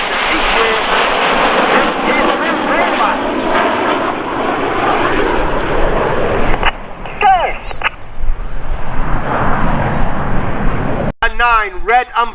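Red Arrows jet aircraft performing an aerobatic airshow display, a loud continuous roar of jet engines passing overhead with a commentator speaking over the noise, fading briefly before another pass rises again.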